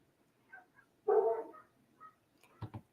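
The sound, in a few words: dogs barking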